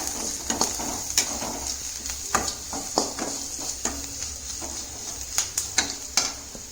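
Turmeric stirred into sautéed onions in a pan, with repeated scraping strokes of a spoon over a constant frying sizzle, close and moderately loud.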